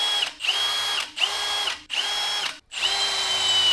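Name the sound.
center drilling holes in metal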